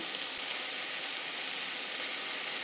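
Chicken pieces fry in a pan without oil, giving a steady, bright sizzling hiss that stays even throughout, close up and with no voices.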